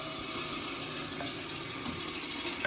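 A bandsaw trims a wooden jewelry box piece close to the edge. It gives a steady, loud whining drone with a faint rhythmic pulsing throughout.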